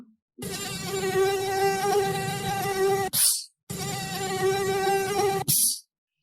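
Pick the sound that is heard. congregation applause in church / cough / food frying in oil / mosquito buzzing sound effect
mosquito buzzing sound effect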